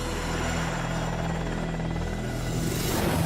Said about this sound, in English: And here it is, the ultimate helicopter.